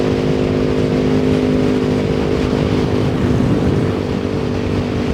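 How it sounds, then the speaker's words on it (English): Engine of a motorbike on a road near Angeles City, Philippines, droning steadily and loudly close by as the rider opens the throttle, with rumbling wind noise throughout. "Get on the speed, get the throttle and go, baby."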